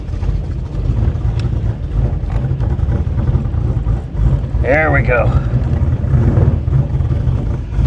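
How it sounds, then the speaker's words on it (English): A minivan's gasoline engine runs steadily, a continuous low rumble close by with mild swells of revving, while someone talks briefly over it. "I love the way this car sounds"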